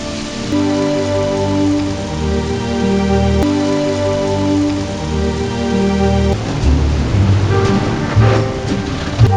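Rain falls steadily in a film scene, a continuous wash of drops heard beneath a prominent sustained musical score that swells toward the end.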